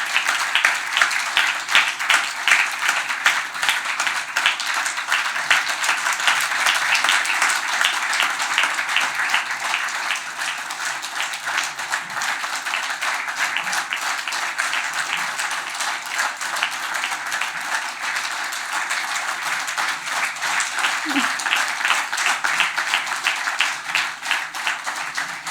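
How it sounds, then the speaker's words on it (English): Steady, dense audience applause fills an award ceremony hall for nature conservation honours, sustained and fairly loud throughout with no voices over it. "Can we hear a big round of applause to Mr. Alexander Lewis Peel"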